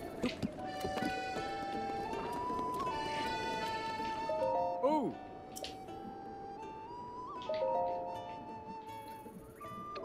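A horse's hooves clip-clop at a steady pace in Zelda: Breath of the Wild, mixed with game music, a whinny-like swell, and faint chimes, at moderate loudness.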